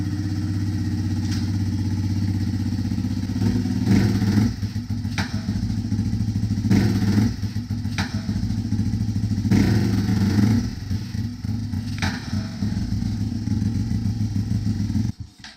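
A Honda Grom motorcycle engine runs close by, its rough idle rising in several throttle blips and revs as the rider lifts the front wheel, with occasional clanks and a sudden cutoff at the end.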